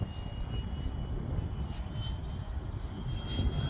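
A Freewing MiG-15 model jet with a 64mm electric ducted fan makes a fast pass in strong wind. Its steady high whine rides over heavy rumbling wind noise for several seconds, with no talk.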